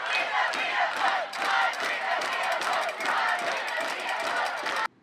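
Football fans roar and cheer at the final whistle of a 28-6 high school win, a dense, loud crowd din with shouts rising and falling continuously for several seconds before cutting off abruptly.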